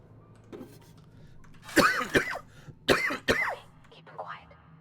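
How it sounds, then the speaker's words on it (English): Several harsh coughs from a person with a bad cold, two close pairs of loud bursts in the middle, with faint background sound before and after. "Apologize for the coughing."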